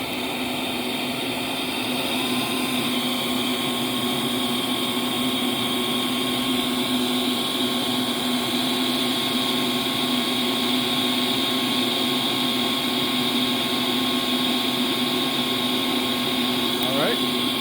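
A Shark NV752 vacuum cleaner runs in carpet mode with a loud, steady motor whine and airflow roar that holds constant throughout, close and uninterrupted.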